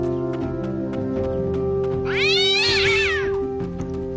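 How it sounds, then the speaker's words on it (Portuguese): Cat meowing in the video game Story of a Gladiator: one drawn-out, wavering meow over a steady musical background, clear and fairly loud. "Vontade de matar esse gato."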